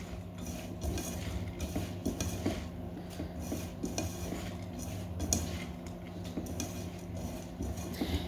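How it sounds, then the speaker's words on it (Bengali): Lentils are mixed with turmeric powder by hand in a metal pot, giving soft rhythmic rustling and scraping with small clinks against the vessel, close and moderately quiet. "এখন ডালগুলো সুন্দর করে হলুদ দিয়ে মিক্সার করে নেব"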